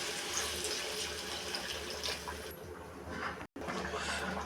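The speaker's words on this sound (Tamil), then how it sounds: "தண்ணி சேர்த்துக்கிறாங்க." Water pours steadily into a pot of Tamil-style chicken curry during cooking, a continuous close rush and splash that briefly cuts out near the end before resuming.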